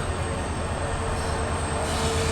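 A passenger train at a railway station platform in Mysuru, India, gives a steady, loud rolling rumble with a thin sustained high squeal of wheels on rail, continuous throughout.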